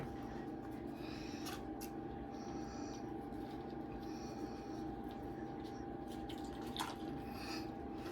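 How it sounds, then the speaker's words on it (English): Water running over an orchid's roots during repotting, a steady close trickle with faint dripping throughout. "I'm gonna rinse it off and let's see what we're working with."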